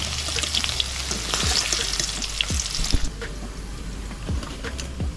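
Chopped capsicum frying in hot oil alongside carrot and beans, a bright continuous crackling sizzle up close, with a few scraping stirs of a spatula midway and no speech.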